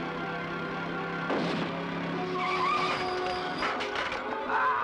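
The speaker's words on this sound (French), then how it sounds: "suivi de la scène de course-poursuite la plus courte du monde" Cars chase each other in a ninja action film, with tires squealing and skidding in rising, wavering whines over engine noise and sharp bursts, loud and busy throughout.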